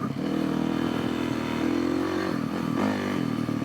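An off-road motorcycle engine ridden in second gear along a root-covered ORV trail in Oscoda, Michigan, droning loudly and steadily with slight pitch rises and some rattling clatter.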